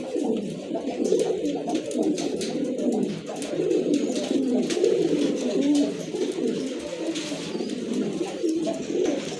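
Large pigeons at a pigeon sale coo in repeated low rolling phrases, close and continuous, with faint background noise.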